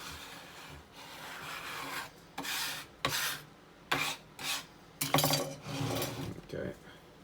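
A scraper drags across paint on a desk in a series of close, rasping strokes separated by short pauses, fairly loud against a quiet room.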